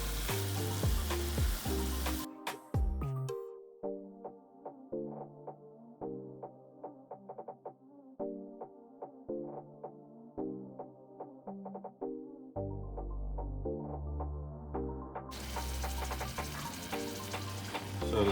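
Salmon sizzling in a hot pan after being flipped, a steady hiss and crackle heard most clearly at the start and end, with tuneful background music running throughout.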